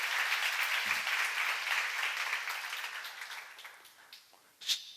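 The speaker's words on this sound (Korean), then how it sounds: "박수를 하세요" Applause from a church congregation during a revival seminar, dense steady clapping that gradually thins and fades, ending with a last brief burst.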